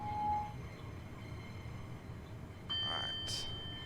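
A full S8 train runs in a train simulator game with a steady low rumble of running gear, a brief tone at the start and a sharp high squeal or whistle near the end; a voice talks over part of it.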